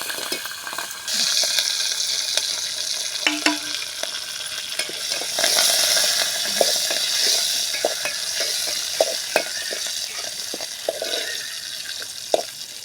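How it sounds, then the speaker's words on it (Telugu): Tempering spices crackle and sizzle in hot oil for sambar, a steady hiss broken by sharp pops and occasional stirring taps nearby. "తాలింపు సరుకులు అయితే వేసేసుకుంటున్నాను"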